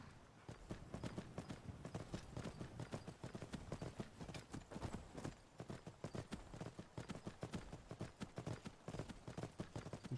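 Horse hooves clip-clop steadily in a fast riding rhythm in the video game Skyrim, loud and close with no talk over them.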